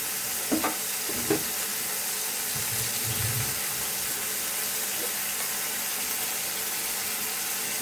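Ginger garlic paste added to hot oil in a pan with a splash of water, fried for a fish-head and bottle-gourd curry. Steady close sizzle and hiss, with a few stirring scrapes near the start.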